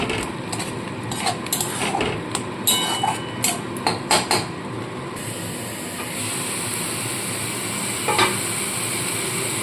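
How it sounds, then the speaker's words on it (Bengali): Onion, ginger and garlic masala sizzles in a pan while a spatula stirs and scrapes in a run of sharp metallic knocks, then the frying settles into a steady sizzle. "এবার খুব ভালো করে মশলাটাকে কষাতে হবে যতক্ষণ না পেঁয়াজ আদা রসুনের গন্ধটা যায়"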